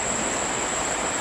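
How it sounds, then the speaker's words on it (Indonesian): Ocean waves breaking on a beach by the sea at night, a steady soft wash of surf noise with a constant high insect-like whine above it. "Itu suara deburan ombak bosku terdengar jelas"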